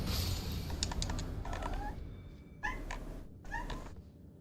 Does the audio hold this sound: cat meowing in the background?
yes